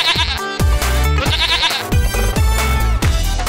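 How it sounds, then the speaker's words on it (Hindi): A goat bleats loudly and close in a series of about six repeated wavering cries, each one strong and nasal, running steadily with no talking over them. "उसी बकरे की आवाज आ रही है"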